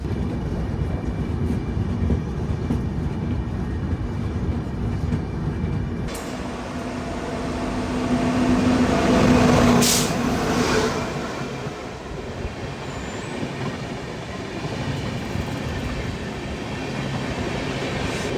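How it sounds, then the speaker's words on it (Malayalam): Grand Trunk Express standing at or easing through Faridabad station on the Nagpur to New Delhi run, a steady rumbling railcar drone with a shift in tone midway, a brief hiss and faint wheel squeal. "നമ്മുടെ GT എക്സ്പ്രസ് ഫരീദാബാദ് സ്റ്റേഷനിൽ നിർത്തുന്നുണ്ട്"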